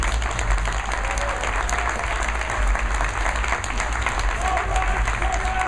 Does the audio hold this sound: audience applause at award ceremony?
yes